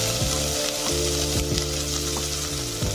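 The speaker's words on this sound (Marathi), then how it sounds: "मी या सर्व भाज्या तेलामध्ये परतून घेत आहे" Mixed vegetables including carrot, salted, sizzle steadily in hot oil in a pan, a dense continuous frying hiss broken by a few soft clicks of stirring, close and fairly loud with no voices.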